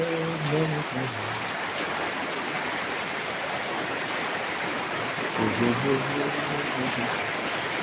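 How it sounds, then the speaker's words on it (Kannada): Steady broadband rush of rain, like a downpour building in the distance, with faint voices murmuring briefly at the start and again near the end. "ಸೌಂಡ್ ಬರ್ತದೆ ಮಳೆ ದೂರ ಬರ್ತಾ ಇರೋದು"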